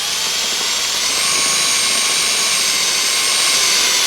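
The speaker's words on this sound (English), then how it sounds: "So can you see the hole I'm drilling? I'm almost through it." A power drill bores steadily through the plastic case of a Philips DreamStation 1 CPAP machine during foam removal, a loud, continuous high whine lasting several seconds.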